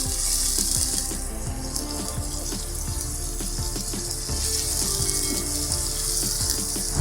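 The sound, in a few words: beef frying in a karahi for Peshawari shinwari karahi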